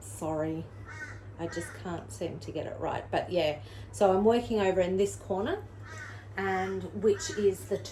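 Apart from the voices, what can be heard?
No everyday noises stand out.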